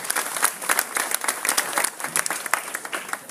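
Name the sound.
applause from an outdoor event audience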